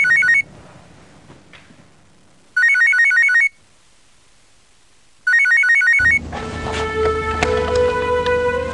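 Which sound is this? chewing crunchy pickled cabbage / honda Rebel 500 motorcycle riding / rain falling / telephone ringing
telephone ringing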